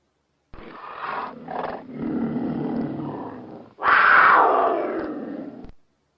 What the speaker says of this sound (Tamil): வேங்கை,